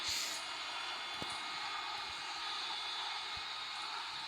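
The engine of an airplane in the Roblox video game gives a steady, bright droning hum that holds throughout, with a few faint clicks and no speech.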